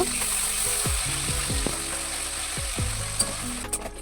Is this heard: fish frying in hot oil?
yes